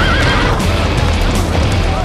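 A horse whinnies loudly and close by, a long shrill neigh with hoof clip-clop mixed in, filling the whole moment without any talk.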